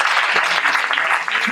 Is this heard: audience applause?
yes